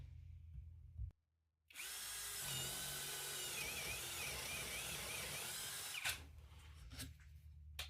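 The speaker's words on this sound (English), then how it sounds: "This drill is probably not the sharpest, but that did pretty good as well." A Makita DDF487 cordless power drill bores a hole with a 1/2 inch bit, starting after a brief pause and whining steadily and loudly for several seconds, then tapering off with a few clicks.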